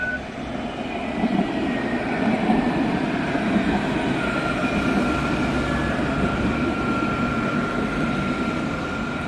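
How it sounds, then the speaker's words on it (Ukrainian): A tram rumbles past nearby in Casablanca, Morocco, a steady loud roar with a faint high squeal running through it for the whole stretch. "Ось, друзі, марокканський трамвай."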